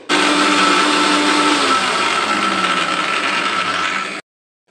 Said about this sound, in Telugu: దీన్ని అయితే మిక్సీ పట్టేసుకుందాం